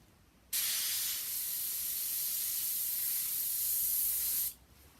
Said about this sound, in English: I've had this airbrush for years, and it has given me trouble for years.